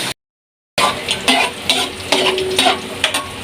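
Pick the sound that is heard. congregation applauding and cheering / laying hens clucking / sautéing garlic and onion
sautéing garlic and onion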